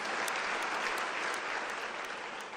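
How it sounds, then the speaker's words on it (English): An audience at a university's academic-year closing ceremony breaks into dense, sustained applause, many hands clapping loudly and evenly before easing slightly at the end. "Can you give them a round of applause?"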